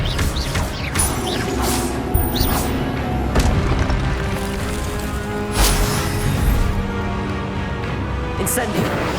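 Expelliarmus spell in Hogwarts Legacy combat, loud booms and crashing impacts with whooshing bursts over several seconds, with voices heard over the action.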